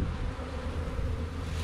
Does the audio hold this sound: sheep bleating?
no